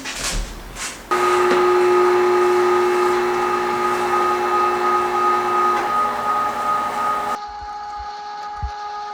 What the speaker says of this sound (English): we're going to run it through the fine grind